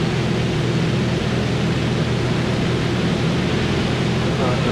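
A light aircraft engine drones steadily after being throttled back during a flight to the Ranger fly-in, a constant loud broadband hum from inside the cabin with no breaks.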